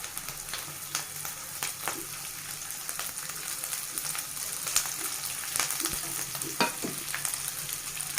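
Sliced bitter gourd frying in a pan with ginger-garlic paste, a steady oily sizzle broken by repeated scraping stir strokes, close and moderately loud with no talking.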